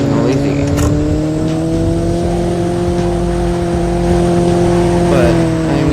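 A new car drives with a loud, steady engine and road drone, constant tonal hum and broadband rumble throughout, heard from inside the cabin with no clear pauses.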